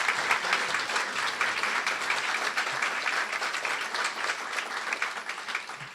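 A crowd applauds steadily for several seconds, a dense continuous patter of many hands clapping in a room.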